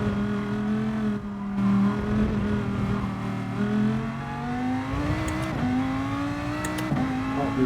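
McLaren race car in Gran Turismo Sport launching and accelerating hard, its engine note climbing through rising pitch sweeps with brief dips at gear changes, loud and close throughout.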